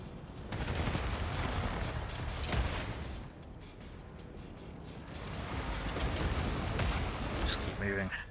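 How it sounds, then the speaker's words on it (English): Missile salvos launching in the strategy game Dust Raiders, a dense continuous roar of firing and blasts swelling in two long waves, loud and close, ending with a brief electronic tone. "Fire all of the missiles."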